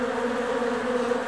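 Honey bees crowd a hive entrance in Newfoundland in July, making a dense, steady, close buzzing drone with no other sounds.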